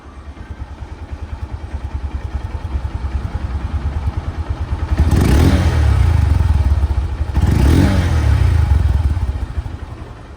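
A second-hand Honda Hornet double-disc motorcycle engine in showroom condition idles steadily nearby, then is revved twice, each rise loud and a few seconds long before settling back to idle.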